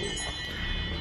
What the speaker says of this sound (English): my timer going off